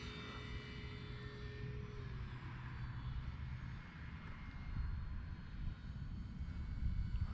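A small radio-controlled E-flite RV-7 model propeller plane drones overhead, a thin buzzing electric motor whine under steady wind noise that grows slightly louder toward the end.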